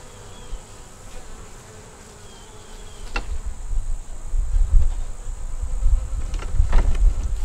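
Honey bees buzzing at a hive kept in a nuc box, a steady low drone that swells in the second half, with a few brief nearby passes of individual bees.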